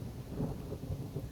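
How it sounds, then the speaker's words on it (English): Steady rain and a low rolling rumble of thunder at a summer campsite, a soft continuous wash of noise with gentle swells and no voices. "And it's raining and thunder and lightning."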